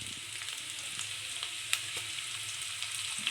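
Fried rice being stirred in a hot pan gives a steady, close sizzle with small scraping clicks from the stirring, one slightly sharper knock near the middle.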